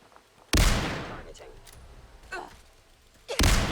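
Hunting rifle shots in a video game: two sharp, loud gunshot blasts with decaying tails a few seconds apart, separated by quieter mechanical clicks and a brief soft voice.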